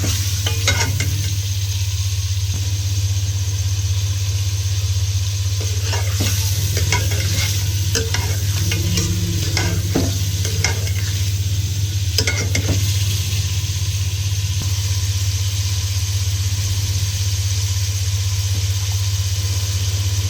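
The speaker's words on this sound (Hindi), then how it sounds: "थोड़ा सा हल्का सा हमने फ्राई किया था, तो उसके साथ हम इसको अच्छा भूनेंगे।" Mutton and potato for Pakistani aloo gosht stir-fried in a pan, a steady loud sizzle with scraping and stirring clatter over a constant low hum, no talk.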